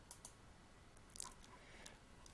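A computer mouse clicks quietly in a still room: two quick clicks come close together, then a slightly louder click follows a moment later, with faint tapping after it.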